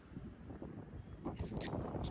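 Strong wind gusting across a mountainside in the monsoon at Mount Abu, a steady loud rush that swells into harsher buffeting gusts in the second half, with some mic buffeting and no clear talk.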